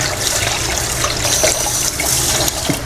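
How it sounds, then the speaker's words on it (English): Rice for champorado, a Filipino breakfast, is washed under running water, with continuous splashing and trickling close by and occasional sloshing as the grains are stirred. "So I'll give the rice a thorough wash in the water"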